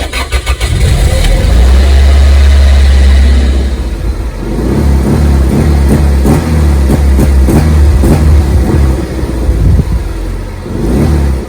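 A Toyota MR2 Spyder engine cranking and firing up after long storage, loud and close, settling into a rough, uneven idle with repeated blips of revving.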